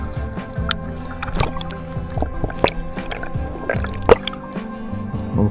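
A camera is dipped into sea water at a beach, giving close, loud sloshing and dripping splashes with bubbly gurgles in an irregular rhythm throughout.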